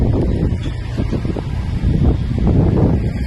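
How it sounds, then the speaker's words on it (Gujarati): Strong wind blows just before the first monsoon rain in a village, buffeting the microphone with a continuous low roar and gusty rustle, loud and steady with no voices. "કેટલો મસ્ત પવન આવે છે"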